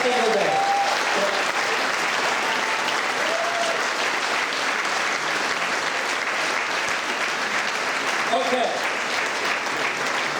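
Sustained, loud crowd applause for labor leaders at a congressional campaign kickoff rally, a dense continuous roar of clapping lasting several seconds, with brief speech heard faintly underneath.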